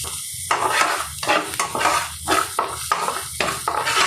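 Onions sizzling in a pan before okra is fried, loud frying hiss broken by repeated rhythmic scrapes of a spatula stirring against the pan.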